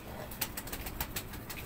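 Low-flying pigeons take off and circle at a rooftop loft, wings flapping in quick, sharp bursts over a soft outdoor background, with faint cooing.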